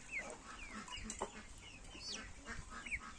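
Black copper Marans hens clucking and murmuring softly in a farmyard, several birds calling intermittently at low volume with background rustle.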